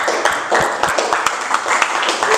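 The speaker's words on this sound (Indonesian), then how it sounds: "Ayo beri tepuk tangan untuk kelompoknya Raden Ajeng Kartini" A classroom of students applauds a student group with quick, scattered hand claps forming a lively, uneven patter that runs throughout, fairly close and moderately loud.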